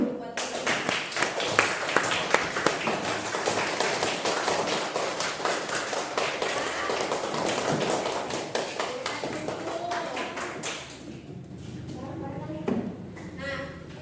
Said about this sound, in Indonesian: Kasih tepuk tangan dulu buat kita.